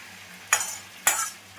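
Fried shrimp and their oil tipped into a simmering fish curry with potato, a soft low bubbling broken by three quick, bright stirring scrapes at roughly even intervals.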